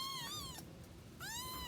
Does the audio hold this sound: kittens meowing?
yes